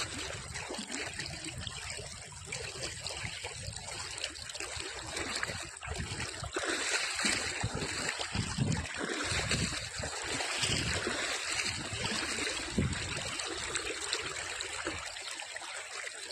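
River water flows with a steady trickling, babbling rush that stays continuous and fairly even, heard up close with occasional splashes and rustles.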